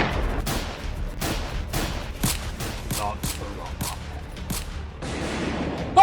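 Gunfire from a film firefight, a rapid volley of sharp, loud shots cracking out one after another, then a brief rumbling pause before more.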